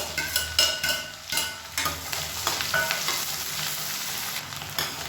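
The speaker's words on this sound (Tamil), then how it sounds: "இப்போ இது எல்லாமே பொரிய ஆரம்பிக்குது." Curry leaves and dried red chillies fry in a blend of refined oil and coconut oil, giving a steady, close sizzle and crackle with occasional stirring clatter throughout.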